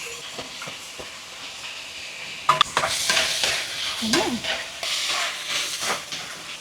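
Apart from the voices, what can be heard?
chicken and corned beef frying and being stirred in a pot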